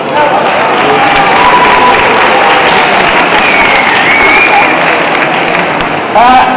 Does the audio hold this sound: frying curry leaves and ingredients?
no